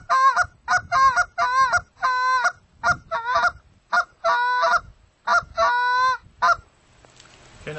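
A goose call imitates two geese honking back and forth, sharp nasal honks and clucks in quick bursts of two to four notes, loud and close with short pauses between them, no talking.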